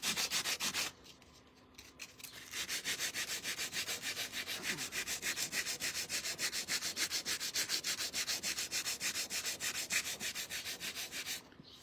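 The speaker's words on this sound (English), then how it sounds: "sand it a little bit so that it's kind of distressed" Rhythmic back-and-forth strokes of sandpaper rubbing over painted wood to distress it, a fast even rasping close to the mic that pauses briefly near the start, then runs steadily with no talk.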